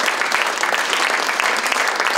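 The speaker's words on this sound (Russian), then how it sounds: "Аплодисменты нашим молодым, юным, ярким талантам!" Dense, sustained audience applause fills a hall honouring young talents, a loud, even clatter of many hands from start to finish.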